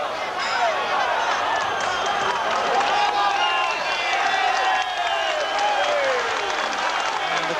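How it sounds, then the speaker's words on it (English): A boxing arena crowd roars and applauds during the Hagler versus Obelmejias rematch, a loud, continuous swell of cheering and clapping, with a commentator talking over it. "the crowd now really reacting"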